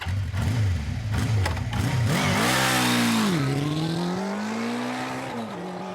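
Several racing engines rev hard at a starting line, loud and close, their pitch climbing and dipping through throttle blips before settling into a strained, sustained drone with a hint of tire squeal.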